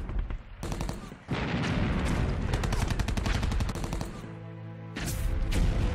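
Rapid bursts of gunfire crackle loudly, with dense repeated shots broken by a short pause and a low droning hum before the firing resumes.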